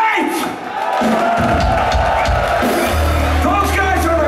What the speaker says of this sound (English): we would like a big round of applause